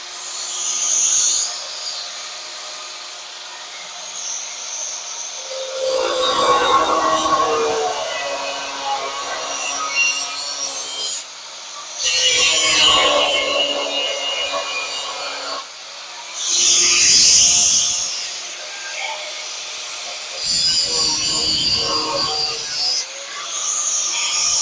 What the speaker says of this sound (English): Let me get my cut-off wheel and I'll start trying to peel this weld